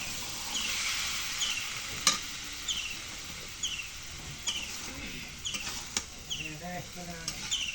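Spice paste stir-fried in a pan, a steady close sizzle broken by repeated scraping stirs of a spatula, with birds chirping faintly in the background.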